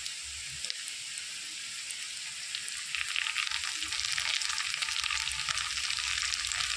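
Spices frying in a pan with green chili and tomato, a steady close sizzle that grows louder and crackles more after the fresh ingredients go in, with no talk.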